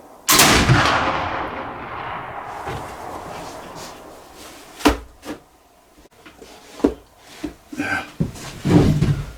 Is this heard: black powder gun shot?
yes